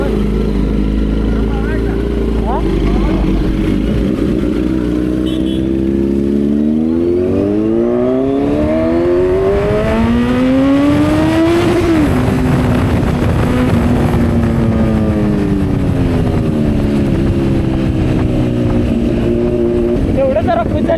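A Kawasaki Z900 motorcycle sweeps past on a coastal road in Konkan, its engine note climbing through several gear changes, then passing close and loud and fading with a falling pitch, with strong wind rumble throughout and no talk.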